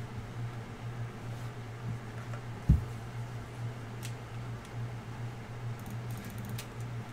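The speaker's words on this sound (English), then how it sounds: "Sorry if you guys can hear this fan in the background." A steady, low electric fan hum runs quietly throughout, with a single sharp click partway through.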